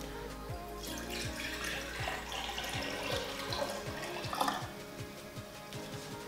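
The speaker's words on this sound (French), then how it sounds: "On va mettre l'eau" Water runs steadily from a tap into a jar being filled for one litre of homemade fruit kefir, a continuous close splashing stream that carries on throughout with no talk.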